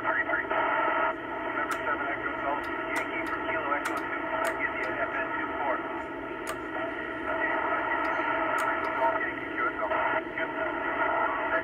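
FM satellite radio stations received on an Icom 9700 transceiver, with voices and band-limited, noisy radio audio broken by brief clicks and crackles.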